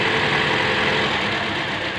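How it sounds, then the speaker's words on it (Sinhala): A car engine idles roughly with an injector wire unplugged, a loud, close, continuous rumble with an uneven misfiring beat and no voices. "ඒක ගැලගුවාම අපිට පේනවා ඉතින් වහන එන්ජින් එක ස්ලෝ වෙලා මික්සර් එක වැඩි වෙනවා"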